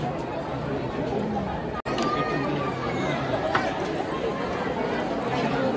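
Dense crowd chatter from a long queue at Jejuri temple, many overlapping voices in a constant close babble with occasional footsteps and shuffling.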